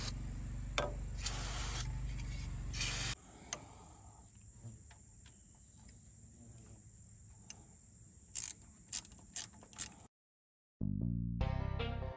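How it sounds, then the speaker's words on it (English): Brake cleaner sprayed onto a John Deere 450 comes as several sharp hissing bursts and one longer close spray, over a steady high background whine, followed by quieter scattered clicks and rustles. "let's hose this thing down with brake cleaner and clean her off some."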